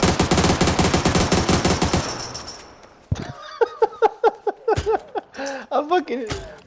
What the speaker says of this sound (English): I shot you when I wasn't even aiming at you.